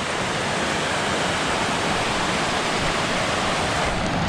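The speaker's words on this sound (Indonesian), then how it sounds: "Ini kita sudah berada di daerah sungai ini." River rushing near a hidden waterfall in Gowa, South Sulawesi, a loud, steady broadband roar of churning water with no pauses and no voices.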